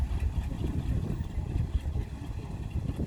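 A big, monstrous engine running steadily, with a dense low rumble at even, moderately loud level and no speech over it.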